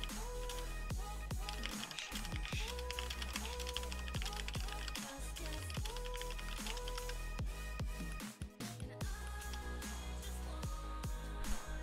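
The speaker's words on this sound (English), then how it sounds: "Whoops, I'm typing in." Typing on a computer keyboard during a co-op game, heard as a steady patter of light key clicks beneath continuous, busy background music.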